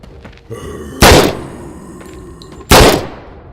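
Gunshots fired at a zombie in the VR game Surv1v3: two loud, sharp blasts about a second and a half apart, each with a short ringing decay, against quiet background noise.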